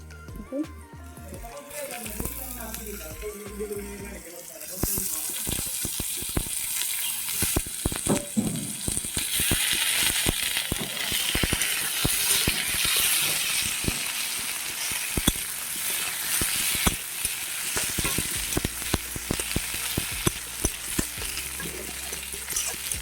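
Cut potatoes and eggs fry in hot oil for an egg curry, a loud steady sizzle with crackling pops and occasional stirring scrapes, starting quieter and rising sharply after a few seconds, with no talk.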